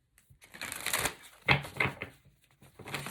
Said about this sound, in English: So let me shuffle this.